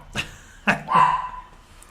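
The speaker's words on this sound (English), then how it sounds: "He's barking at himself in the window." A dog gives a few short barks nearby, ending in a drawn-out whiny yelp.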